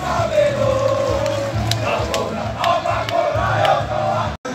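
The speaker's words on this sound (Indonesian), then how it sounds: "Beri tepuk tangan yang meriah untuk rombongan yang telah melintas di depan Gedung Gerahadi." Spectators lining the route of the Surabaya heroes' parade outside a government building roar and clap for a passing group, a loud, sustained crowd din with a brief dropout near the end.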